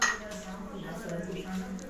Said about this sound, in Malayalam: മീൻ വറക്കുള്ള പാൻ എടുക്കുന്നു.